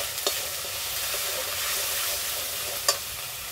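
Black cumin and ginger paste fry in hot tempering oil with a steady, even sizzle throughout, broken by two sharp clicks of a utensil against the pan.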